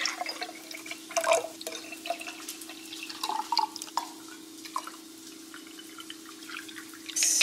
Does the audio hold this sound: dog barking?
no